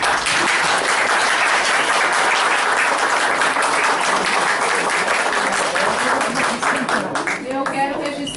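A council chamber audience applauds steadily for several seconds, dense and loud, with voices rising near the end as the clapping thins.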